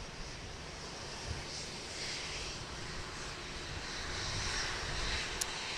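A jet in TWA retro livery, arriving from Phoenix, comes in at Dallas Love Field with a steady, distant engine roar that swells slightly toward the end, with no voices.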